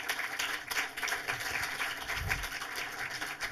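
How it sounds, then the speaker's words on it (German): A film screening audience applauds to welcome the director for a post-film talk, moderately loud, continuous clapping with scattered individual claps standing out and some low murmuring beneath. "begrüßen Sie bitte mit großem Applaus nochmal den Regisseur Max Zähle"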